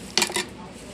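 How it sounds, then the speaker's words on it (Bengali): A few ice cubes clatter into a mango yogurt lassi being made with sour curd, giving a short burst of two or three bright clinking knocks against the glass, then quiet. "এবার কিছু আইসের টুকরো দিয়ে দেবো এতে"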